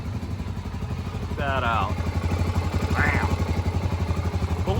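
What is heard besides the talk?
Honda 400ex ATV engine idling while warming up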